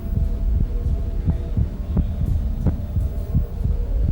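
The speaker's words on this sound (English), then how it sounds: "our super-sensitive microphone will listen to the changes in his heartbeat" Amplified human heartbeat picked up by a super-sensitive microphone: steady, deep thumping pulses roughly every half second over a constant low hum, loud and close, with no voices.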